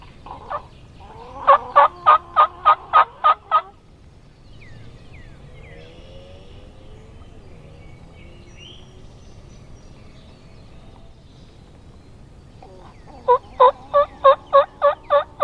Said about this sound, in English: Now that he was in the high spot of the field and he gobbled